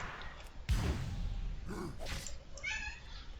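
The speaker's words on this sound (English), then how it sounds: "And these cats are driving me nuts." Cats meowing in a game, several short meows and a drawn-out cry, faint and somewhat distant against a low background.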